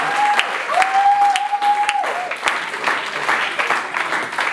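An audience at a school talent show claps and applauds, a dense, loud stretch of continuous clapping with a few sharp individual claps standing out and a faint tonal whistle-like sound partway through.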